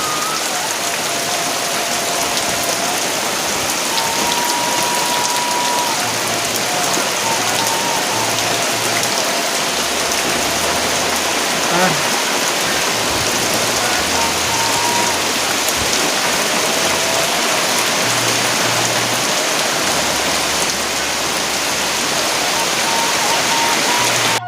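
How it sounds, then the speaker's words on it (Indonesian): Steady rain drumming on an outdoor hut in Indonesia while cassava leaves and an omelette are being cooked, a loud, constant hiss with low thumps from the roof and sparse background noises, no speech heard. "Hujan guys, hujan."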